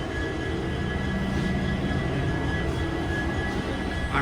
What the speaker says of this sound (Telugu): ఆ ట్రైన్ వచ్చేసి మనకు బెంగళూరు సెంటర్ నుంచి సుబ్రహ్మణ్యం వెళ్ళే ట్రైన్ ఇది.